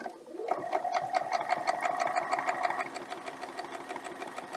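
A sewing machine stitches steadily at close range, its fast even needle rhythm running for a few seconds before it slows and stops, with no voices.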